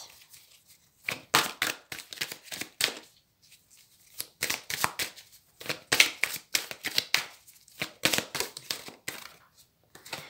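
Tarot cards being drawn, shuffled and handled at close range, a run of crisp papery riffles and flicks in bursts with short pauses between, with no talking.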